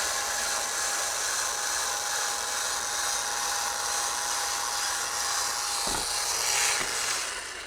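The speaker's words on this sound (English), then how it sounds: "We can lower the jack down." AGM Electric Jack PRO lowering a Can-Am X3 side-by-side on a trail, a steady quiet electric motor whine with a thin high tone, ending with a couple of soft mechanical clunks.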